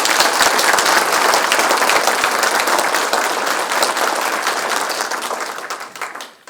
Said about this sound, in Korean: 지사님께 큰 박수를 보내주시기 바랍니다